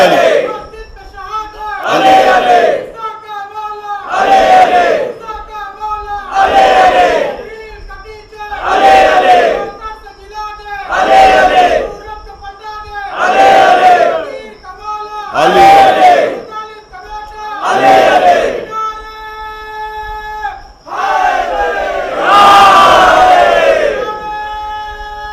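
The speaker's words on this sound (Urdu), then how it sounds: "علی علی، سب مل کے بولیں" A large majlis congregation chants "Ali Ali" in unison, loud repeated call-and-response bursts roughly every two seconds, the crowd's voices swelling together and falling back between each cry, ending on a longer sustained shout.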